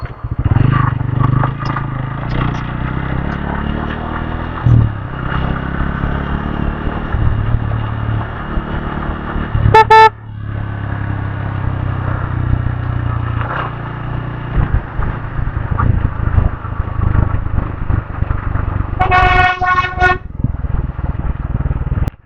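Road traffic near Cabo de Rama in South Goa, with motorcycles and cars rumbling past and two sharp horn honks, one near the middle and one near the end, over a continuous engine drone.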